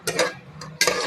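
Ground tomato being stirred into a pan of chicken biryani, with two scraping bursts, a pause, a faint stroke, then another scrape, close and fairly quiet over a low steady hum.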